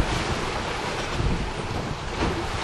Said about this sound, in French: y a une grosse vague qui arrive là.